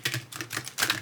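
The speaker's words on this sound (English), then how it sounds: "let's go ahead and see how they shuffle" A deck of oracle cards is shuffled up close, with soft papery riffling and flapping in quick bursts, the clip otherwise quiet.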